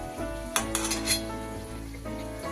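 Green pea kachori deep-fry in oil with a dense close sizzle, and a few light metal clinks from a utensil against the pan break through.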